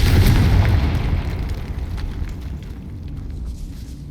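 A Confringo blasting spell goes off as a loud explosion in a decayed catacomb in the Hogwarts Legacy video game. One heavy boom with deep rumble opens the sound and then slowly fades into a lingering roar, close and dominant.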